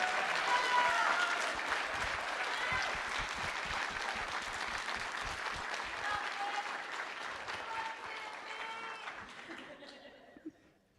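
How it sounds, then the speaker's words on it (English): Sustained, enthusiastic audience applause at an open hardware summit, a dense roar of many clapping hands with some laughter and cheering mixed in, gradually thinning out and fading toward the end. "We could clap all night for them"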